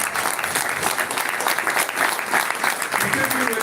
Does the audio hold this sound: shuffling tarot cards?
no